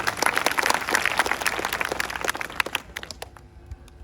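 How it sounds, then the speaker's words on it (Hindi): Students in a village intermediate college classroom in India clap together in a dense, fairly loud burst that thins out into a few scattered claps before fading. "ताली बजाइए आपके।"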